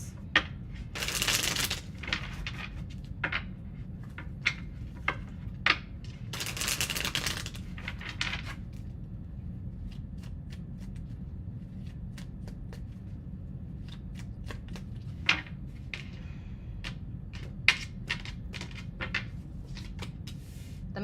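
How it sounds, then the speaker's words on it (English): Tarot cards are riffled in two quick bursts, followed by many soft ticks and taps as they're squared and handled, close and quiet against a low hum. "2 more shuffles."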